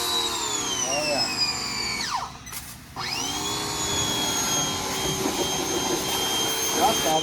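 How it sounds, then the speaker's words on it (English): A pressure washer sprays a diesel truck with a steady, loud hissing roar that dips briefly for about half a second, then resumes at full strength. "The first pressure washing we had on this thing."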